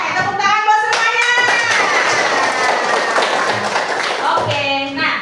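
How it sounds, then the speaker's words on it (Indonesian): A class of children clapping together in a lively, sustained burst of applause, with a few young voices mixed in over the steady hand claps. "Oke, tepuk tangan buat semuanya."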